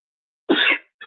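A single sharp sneeze bursts out close and loud, a short explosive burst lasting about a third of a second, followed by a couple of brief faint sounds.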